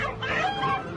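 A rooster being caught and handled gives off agitated clucking and squawks across about a second, fairly loud and close, with busy harmonic calls and no speech over it.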